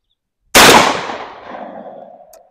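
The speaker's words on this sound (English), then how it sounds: "The second shot. We're back here at 25 yards now. Same load that Josh fired" A 24 gauge shotgun fires a #3 bismuth load in a Fiocchi hull at an outdoor range, giving one loud, sharp, close report followed by a long, fading echo.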